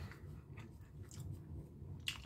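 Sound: chewing dry roasted peanuts

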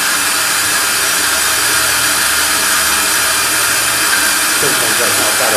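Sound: EBC Pro-cut brake lathe machining a brake disc

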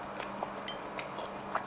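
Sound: biting into crispy fried fish cake

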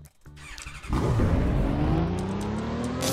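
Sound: Ferrari LaFerrari engine revving in the video game Car Crushers

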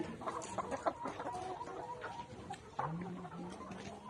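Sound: layer hens clucking

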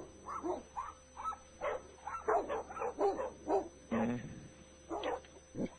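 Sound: several dogs barking over phone

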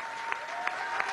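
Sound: audience applause

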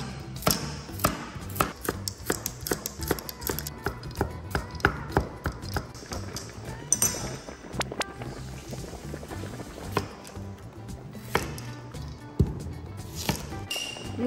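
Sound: knife mincing unpeeled carrots

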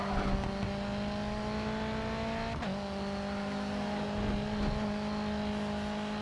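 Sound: touring car engine in racing video game

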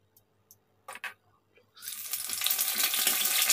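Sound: cooking oil being poured into a pan for frying

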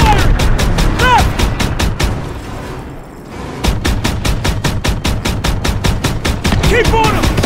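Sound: gunfire in Call of Duty WWII video game

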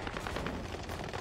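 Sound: gunshot in the video game Modern Warfare 2

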